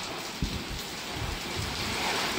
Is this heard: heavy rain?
yes